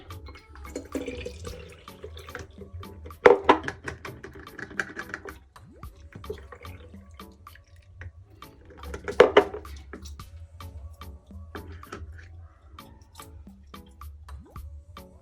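Clove-infused water poured through a funnel into a bottle, with soft trickling, drips and a couple of louder splashy bursts amid quiet pauses.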